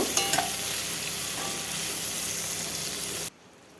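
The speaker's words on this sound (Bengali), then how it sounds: "দেখুন এইভাবে উল্টে পাল্টে ভেজে নেব ভাজা হয়ে গেল নামিয়ে নেব" Crabs frying in mustard oil while being turned over: a dense, close sizzle with quick clattering knocks of the utensil at the start, continuing steadily until it cuts off abruptly near the end.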